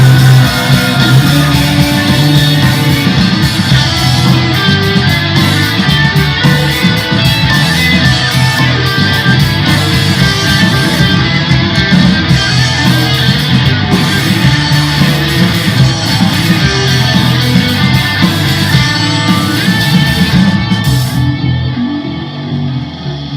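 Full, dense band passage with sustained distorted lead guitar easing off as the low end takes over, settling into a heavy bass-driven breakdown with steady drums, loud throughout and thinning out over the last few seconds.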